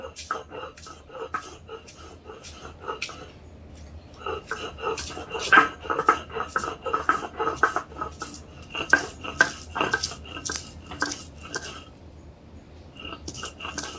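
Garlic, onion and dried chili are ground with salt, likely on a grinding stone, giving repeated scraping and knocking strokes in uneven bursts, close and moderately loud, with clatter of utensils and no talking.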